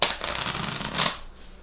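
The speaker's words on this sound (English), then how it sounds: "I like to do an overhand shuffle" Sushi Go Party card deck given an overhand shuffle, a quick close riffle of cards slapping and sliding together in two soft bursts, quiet and unaccompanied by speech.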